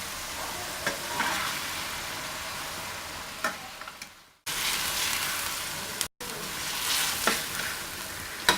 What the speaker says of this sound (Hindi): अब मैं इसमें चिकन डालूंगी।